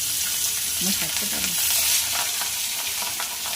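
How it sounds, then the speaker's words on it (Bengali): Bhetki fish pieces, rubbed with salt and turmeric, sizzle steadily in hot oil, a continuous close crackling hiss with a brief stirring scrape. "এইবার আমি ভেটকি মাছগুলো তেলের মধ্যে দিয়ে দেবো।"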